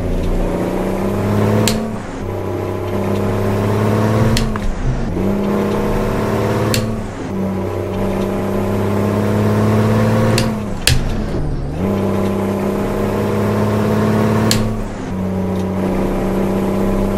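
Kenworth W900 truck engine in American Truck Simulator, a loud steady diesel drone that rises and drops through repeated gear shifts, hauling a refrigerated trailer through California, with no talk over it.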